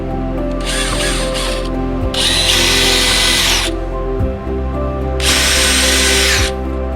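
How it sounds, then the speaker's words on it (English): A power drill bores pilot holes in boards for a wooden crate, its motor whining loud and close in three bursts with short pauses between, a ratcheting clatter under the idle stretches. "Pre-drilling does help with cracking, although I don't think I have a big enough drill bit in there right now."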